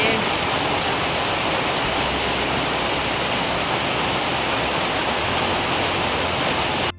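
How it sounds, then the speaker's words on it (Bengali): Heavy rain pours down in Ghatal, a steady, dense wash of noise that holds evenly for several seconds before cutting off abruptly. "প্রচন্ড ঘাটালে বৃষ্টি হচ্ছে।"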